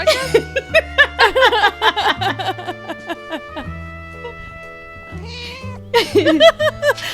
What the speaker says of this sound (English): I had my cat meow right into the I heard microphone.